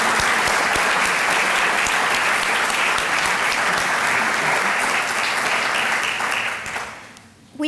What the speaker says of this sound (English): I'd just like to take a moment to have a round of applause for Alan and Judy as a thank you